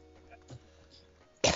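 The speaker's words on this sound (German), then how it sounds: "Hör auf zu husten, ey." A single sharp cough bursts out near the end, loud and close after a quiet stretch with faint background game noise.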